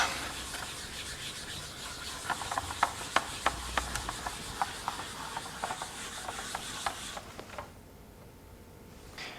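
An eraser rubs across paper in quick scratchy strokes, near and fairly loud in an irregular rhythm, then stops, leaving a quiet room tone.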